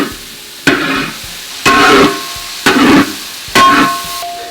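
Chicken and onions for a Kerala chicken roast stirred in a pan, four loud scraping strokes spaced about a second apart over a quieter sizzle, with no speech.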